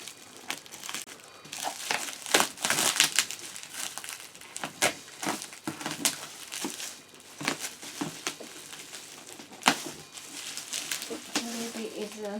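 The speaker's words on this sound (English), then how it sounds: "Pull the tape." Packing tape being pulled and peeled off the cardboard packaging of a rice storage dispenser during an unboxing, giving close, loud crinkling and ripping bursts in an irregular run, with a brief voice near the end.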